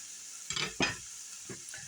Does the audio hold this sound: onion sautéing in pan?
yes